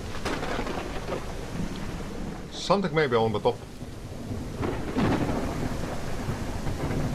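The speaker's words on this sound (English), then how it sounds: "We have some protection against this rain." Steady rain with rumbling thunder in the survival video game Mist Survival, the rain constant throughout and a thunder roll swelling in the middle, with someone talking briefly over it.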